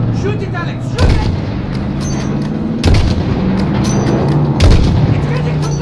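Heavy gunfire booms in the Modern Warfare video game during a sniper mission, three loud blasts spaced about two seconds apart over a dense, continuous rumble of battle noise and vehicle engine drone.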